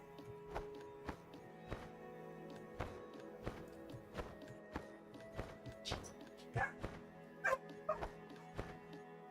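Dogs barking in Planet Zoo, a busy run of yips and barks in irregular bursts over a steady ambient hum, some sharp whimpering cries near the end.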